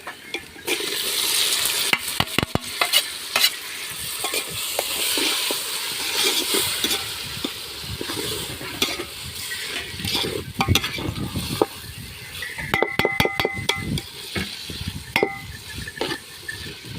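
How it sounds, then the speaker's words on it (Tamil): Chopped tomatoes fry for fish curry in a pan outdoors on farmland, with a steady sizzle under repeated scraping and clinking of a ladle stirring against the metal, sometimes in quick bursts. "நறுக்கின தக்காளியை நம்ம போட போகிறோம்."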